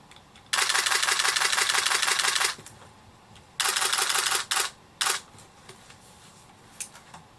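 Nikon D300s DSLR set to high-speed continuous shooting, its shutter rattling off rapid bursts of evenly spaced clicks, one long run then a shorter one, followed by a few single snaps; close and crisp.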